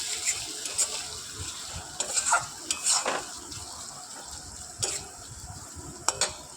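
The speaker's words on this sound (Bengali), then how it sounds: "দিয়ে আমি মশলাটাকে ভালো করে কষাতে থাকবো।" Ground cumin, coriander and fennel spice mix being sautéed and stirred in a pan for chana masala, with soft sizzling under scattered scraping clinks of a spoon against the pan.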